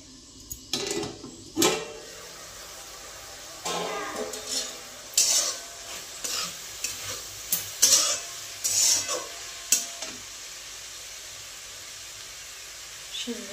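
Vegetables cooking in a pan being stirred, a faint sizzle under repeated scraping and clinking of a utensil against metal at an irregular rhythm, close by.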